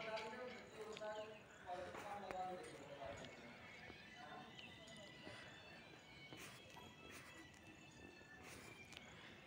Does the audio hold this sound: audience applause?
no